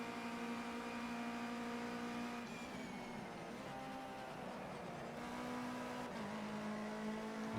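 A Ginetta Junior race car in Project Cars 2 drones steadily at high revs on a snowy circuit, its engine note dipping and climbing through gear changes, loud and close with no talk over it.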